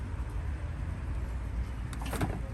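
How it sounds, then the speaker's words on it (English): Plastic bumper clips on a Ford Fusion popping loose as the bumper is pulled away, a short cluster of sharp clicks and cracks near the end over a dull, steady background hum. "So you can hear the clips removing themselves"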